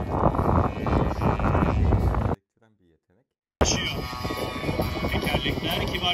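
Strong wind roars across an RC model airplane in flight at the Hezarfen airfield model aircraft festival. The steady engine drone blends with gusty rumble, cuts out briefly for about a second, then returns just as loud.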